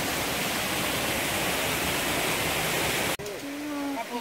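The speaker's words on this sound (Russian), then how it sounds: "Водопад какой." Water pouring at a waterfall in Pavliani park, central Greece, a loud, continuous rushing roar that cuts off abruptly near the end, leaving quieter ambience with faint voices.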